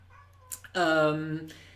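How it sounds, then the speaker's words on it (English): A house cat gives one drawn-out, close meow with clear rising and falling harmonics, preceded by a couple of short sounds, in an otherwise quiet indoor room. "So cat is meowing, but let's just ignore him."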